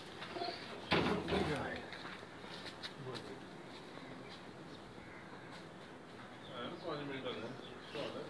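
Pigeons coo on a rooftop as birds are stamped and released. The cooing is faint and distant, with people talking and general outdoor noise throughout.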